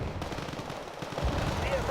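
MG3 machine guns mounted on Fuchs and M113 vehicles firing in a World War tactics video game, rapid bursts of gunfire crackling continuously over a busy battle backdrop for two seconds, with faint voice underneath.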